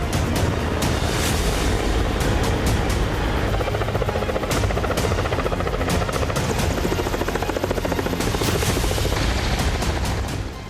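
Russian Navy Mi-24 Crocodile helicopter patrolling off the Alupka coast: loud, continuous rotor thudding with rapid rhythmic blade slap, close and steady throughout, with a broad roaring wash beneath.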